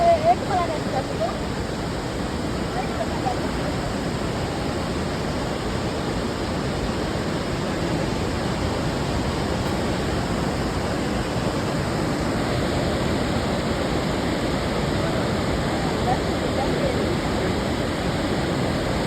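Water rushing through an opened gate of Minipe Dam, a dense, steady roar that holds at the same level throughout, close and loud with no pauses.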